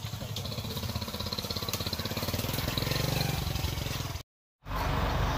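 A crawler tractor's diesel engine runs with a steady, rapid chugging rhythm, close and loud, then cuts out abruptly for a moment before resuming.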